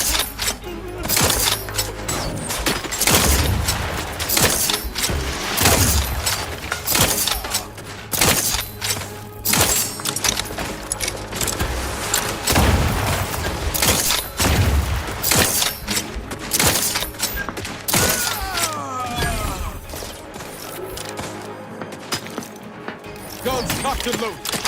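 Gunfire during a fight in The Outer Worlds 2: repeated bursts of shots, booms, thuds and mechanical clanks continue throughout, loud and dense, with voices talking intermittently.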